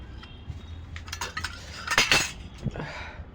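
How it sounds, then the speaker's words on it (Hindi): Dishes and cutlery clink and clatter as a steel tea pot and cups are set aside after tea, a close run of metallic knocks and rattles with no talking. "अब बर्तन रख दो पीछे"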